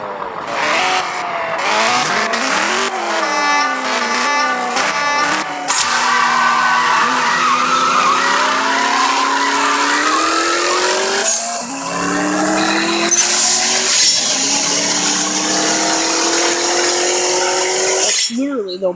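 Race car engines in the video game CSR2 whine and rev with rising and falling pitch while tires squeal in long skids, loud and continuous, with talking mixed in.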